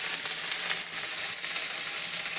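Cumin seeds and garlic frying in hot oil for a pea and potato kurma, a close, steady crackling sizzle with faint stirring.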